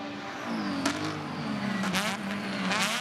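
A race car passes during the 2017 FOX Factory 120 race, its engine note loud and sustained with pitch sweeping up and down, and other cars droning behind it.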